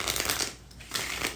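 Beyond Lemuria pocket-edition oracle cards being shuffled by hand: a close, steady riffling rustle that pauses briefly midway and then resumes, with no voices.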